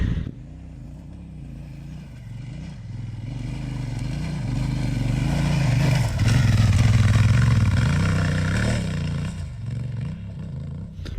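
An adventure motorcycle on Kenda Paver Big Block 80/20 street-leaning tires climbing a dirt mountain hill in first gear, its engine droning close and swelling to a louder labouring roar midway before easing off, with no talk.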